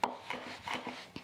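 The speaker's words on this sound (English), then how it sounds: "I'm going to put a little finer chop on it here" Knife finely chopping onions on a board for blackened fish and chips, a few soft irregular taps close by at low level, no talking.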